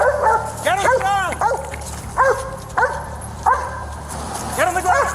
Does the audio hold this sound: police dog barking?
yes